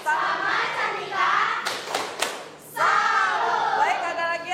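Applause breaks out in a classroom, with a burst of clapping from a group of students between stretches of voices talking.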